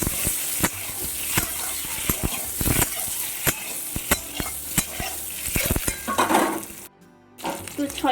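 Eggs frying in oil seasoned with turmeric and salt for a Bengali egg curry: a steady sizzle broken by sharp spatula scrapes and metal clinks against the pan, close and fairly loud, with a brief drop-out near the end.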